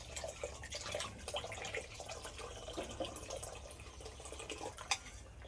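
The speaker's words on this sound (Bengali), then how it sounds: "পরিমাণ মতন জল দিয়ে দিয়েছি," Water poured into a pot of dal, a faint running, trickling pour with small drips, quiet and steady throughout.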